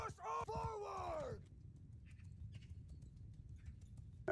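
Cavalry horses in the Bannerlord game: a horse neighs loudly at the start, then hoofbeats clop steadily under a low rumble of movement.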